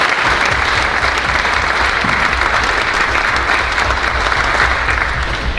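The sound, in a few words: audience applause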